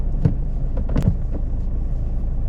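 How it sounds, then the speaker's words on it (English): A learner's car pulls away during a mock driving test: a steady, close low engine rumble with a couple of brief bumps, no talking over it. "let's drive off"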